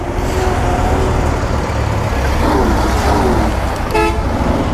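Car horns honk in a traffic jam, several short toots scattered over a steady rumble of idling cars, trucks and buses, with one loud horn blast near the end.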